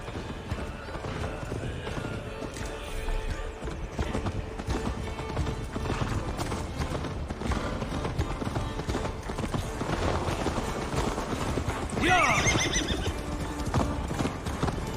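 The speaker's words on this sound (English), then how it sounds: "Your horse is slow, and her rider's drunk." Hoofbeats of a galloping horse clatter steadily in the video game Assassin's Creed Valhalla, with a loud neigh near the end, set over a dense game soundtrack.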